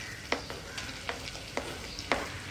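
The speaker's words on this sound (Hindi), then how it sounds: "अब कढ़ाई में डालें अपना बटर गार्लिक, अब इसमें डालें मशरूम्स" Mushrooms frying in butter and garlic in a kadhai, a steady soft sizzle broken by a few sharp stirring scrapes spaced roughly half a second apart.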